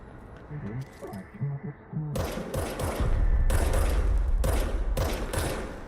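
A voice talks briefly before a burst of gunfire erupts in Control, sustained rapid shots rattling loud and near, pulsing in several surges over a few seconds.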